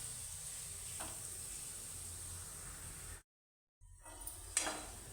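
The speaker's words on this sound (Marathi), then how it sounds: "आता मी हा पण मसाला 2 मिनटं छान परतून घेते" Pav bhaji masala with onions sautéing in butter and oil in a pan, a soft steady hiss of frying broken by a short total silence, then resuming with a few faint stirring scrapes.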